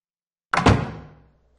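A door in the PS1 game Silent Hill swings open with a heavy, close thunk and a quick creaking rattle that decays over about a second after silence.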